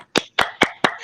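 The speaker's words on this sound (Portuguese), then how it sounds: "Uma salva de palmas para as meninas." Four sharp hand claps in a steady rhythm, close and distinct, with brief silence between them and no voices.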